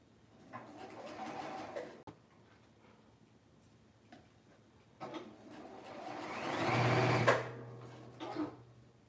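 A sewing machine runs in two short bursts of stitching through fabric on a DIY dress form, with a fainter rattle and soft handling noises in the quiet gaps between.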